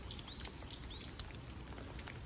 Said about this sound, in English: Oh, the sounds of those birds.